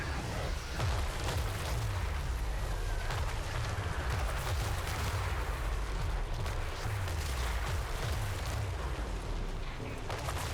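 Rapid catapult shots fire in a strategy video game, a dense, continuous barrage of booming, crackling impacts that stays loud throughout with no pauses.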